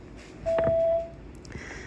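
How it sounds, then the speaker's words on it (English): A voicemail answering machine gives a single clean electronic beep lasting about half a second, preceded and followed by faint line noise and soft clicks. "Please leave a message after the tone."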